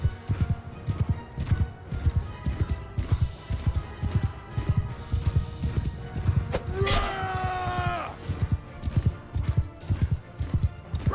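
Cavalry horses gallop in Mount & Blade 2: Bannerlord, a rapid, rhythmic drumming of hooves close by, broken midway by a loud, wavering neigh before the pounding resumes.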